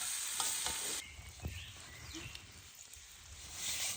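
Onions and sugar frying for burgers in a pan over a campfire in the woods, a soft sizzle with occasional stirring clicks and outdoor background noise.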